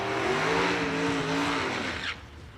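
A 1970 Chevrolet Camaro drag car launches off the line at a drag strip, a loud roaring pass with rising engine tones that cuts off abruptly near the end.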